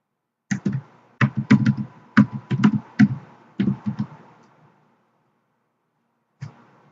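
Someone types a password on a computer keyboard, close crisp key taps in short uneven bursts with brief pauses, then a final single tap after a silence.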